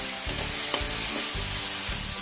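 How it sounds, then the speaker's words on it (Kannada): Onions fry in a pan for chicken sukka under a constant close-up sizzle, with four rhythmic scrapes of a spatula stirring them at roughly half-second intervals. "ಫುಲ್ ಫ್ರೈ ಆಗೋದು ನೀರುಳ್ಳಿ"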